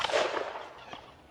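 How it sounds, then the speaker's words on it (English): A .308 rifle bullet striking a hardened steel lock, one sharp crack that decays quickly into a short echoing tail, close and loud. "308 against our hardened steel lock here"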